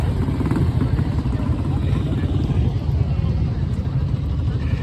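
An old air-cooled classic British motorcycle engine runs steadily and loudly nearby at a motorbike meeting in Japan, a continuous low rumble with no pauses.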